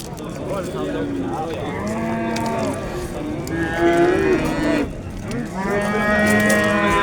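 A cow at the Chust livestock market lets out several long, loud moos close by. Bellows rise and fall across the stretch over a low murmur of market noise.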